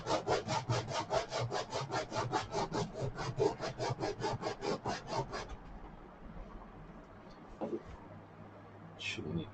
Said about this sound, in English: Shouldn't need this much sanding.